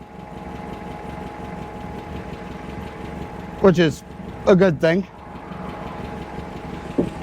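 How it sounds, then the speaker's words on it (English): A 1970s sand rail's engine idles steadily throughout, a low continuous rumble and vibration, while someone talks briefly over it near the middle. "All right, the engine's running good."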